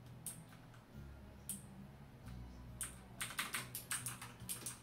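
Keystrokes on a Redragon K580 Vata mechanical keyboard with light-resistance keys, scattered clicks at first, then a quicker run of sharp clacks toward the end, close and fairly quiet over a low hum.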